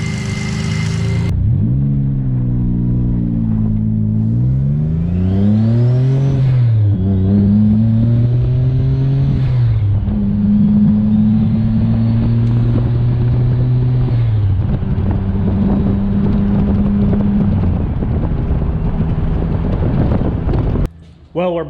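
An EG33-swapped turbo Subaru Impreza on a test drive after a coolant system repair, its engine revving and shifting through gears with rising and falling pitch, loud and close throughout before cutting off near the end.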